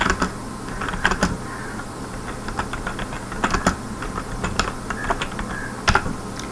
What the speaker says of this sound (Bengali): এখন আমি লিখবো দিস ইজ ফার্স্ট প্রোগ্রাম।